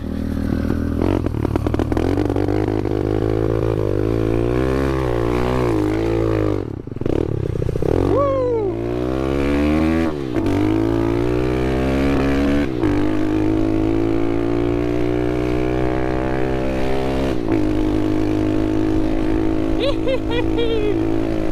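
A small SSR pit bike engine revs and climbs through gears while being ridden, with rising and falling tonal whine, a brief dip and surge midway, then a sustained steady drone, loud and close with wind and rattle.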